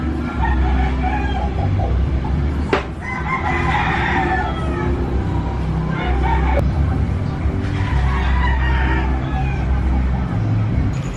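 Chickens in a backyard cluck and a rooster crows over steady outdoor background noise, the calls recurring across the stretch with no speech.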